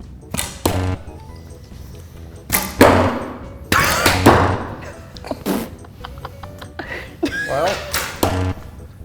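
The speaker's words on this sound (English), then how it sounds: "So you look at the balloon, close your eyes, and shoot." Arrows loosed from bows at balloon targets during a casual archery session, several sharp thwacks and thuds spread across the stretch, close and loud, with people talking between shots.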